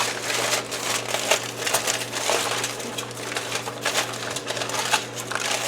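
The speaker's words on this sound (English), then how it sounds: "Cover it with foil." Aluminium foil crinkled and crushed while covering food at a campfire cooking setup, busy close rustling and crackling over a steady low hum, no talking.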